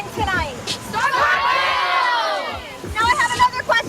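Crowd cheering and shouting at a high school football game, a sustained swell of many voices through the middle with bursts of shouting and chatter at the edges.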